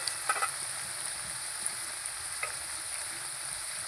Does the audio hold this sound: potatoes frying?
yes